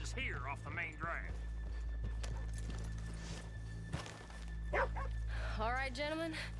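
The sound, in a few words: horses in Red Dead Redemption 2 video game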